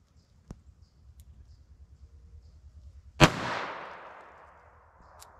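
A single sharp gunshot from a .38 Short Colt revolver cracks at close range and rings out in a long decaying echo, following a quiet stretch with faint ticking and a soft click.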